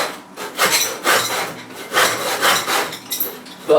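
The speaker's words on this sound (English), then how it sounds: "this is not an ideal saw for cutting this sort of timber" A hand saw not suited to the timber cutting wood for bonsai staging, with close, loud, rasping back-and-forth strokes in an uneven rhythm of roughly six or seven pulls.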